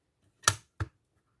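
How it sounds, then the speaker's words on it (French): A small paper trimmer slices through paper in two quick, crisp cuts, each a short dry snap close by in an otherwise quiet room. "Mon mini massicot."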